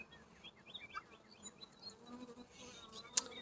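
Honeybees buzz faintly around an open hive during a queen release, a soft continuous hum with a few small chirps and one sharp tap near the end.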